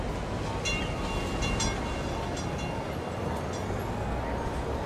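A tram rolls past in the Cities: Skylines city-building game, a steady continuous rumble with faint high metallic squeals, holding an even level throughout with no clear speech.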